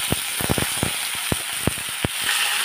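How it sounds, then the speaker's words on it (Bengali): Vegetables fry in a pan of oil with onion and black cumin for a small-fish chochchori, making a constant close hiss broken by sharp clicking scrapes of stirring. "এখন সবজিটাও ভেজে নিই।"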